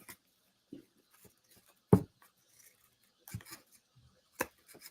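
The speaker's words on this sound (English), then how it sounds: "These are also not my fabric scissors." Scissors snip fabric for Christmas ornaments in a quiet room, a handful of short, sharp, separate cuts spaced irregularly with silence between them.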